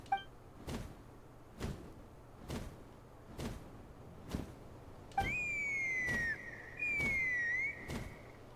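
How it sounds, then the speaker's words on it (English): A bright, high whistle with gliding pitch rises and falls in the Genshin Impact video game, sounding twice in quick succession. Soft, regular thuds pulse steadily underneath. "That sounded like a whistle."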